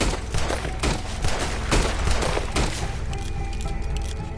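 Gunfire in Red Dead Redemption 2 during a fight with a big alligator, loud, dense cracks and blasts overlapping through most of the stretch before easing into quieter rumbling game noise.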